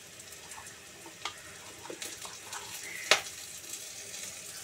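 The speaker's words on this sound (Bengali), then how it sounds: "এবার পেঁয়াজটা ভাজা ভাজা হয়ে গেছে।" Onions for a loitta fish curry fry in a pan, a soft, steady sizzle with occasional sharp clicks and scrapes of stirring.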